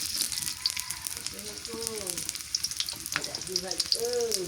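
Onions fry in a pan over a clay stove, giving a crackling, spitting sizzle throughout, with clinks and scrapes of stirring and faint voices and household sounds behind it.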